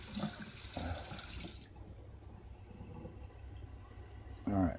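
A tap runs water into a bowl as drinking water for a cat, splashing in short bursts that stop and start again, with a voice talking softly over it.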